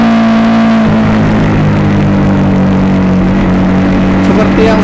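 A Suzuki GS motorcycle fitted with a Racefit slashcut exhaust runs loud and close, a steady throaty drone that shifts pitch slightly early on and holds through to the end.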